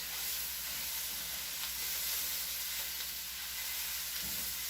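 Onions cooking in a pan for a French onion tart, turned down to low heat, give a steady, even sizzle and hiss with faint stirring throughout, close and continuous with no talking.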